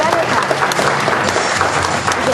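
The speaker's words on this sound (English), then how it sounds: "Let's give them all a big round of applause." Crowd applause at the Kentucky Horse Park, a steady, loud wash of clapping from a large audience throughout, with some voices mixed in.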